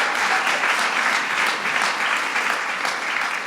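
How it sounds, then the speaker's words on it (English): Audience applause at the White House Children's Film Fest 2015, a dense, steady wash of many hands clapping at once, loud and close, holding evenly for a few seconds with no talk over it. "Give them a big round of applause."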